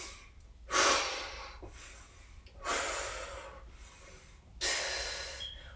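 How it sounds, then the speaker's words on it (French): During an upper-body exercise series, a person breathes in and out in three long, rushing breaths spaced about two seconds apart, close to the microphone with quiet between them. "On inspire, on expire."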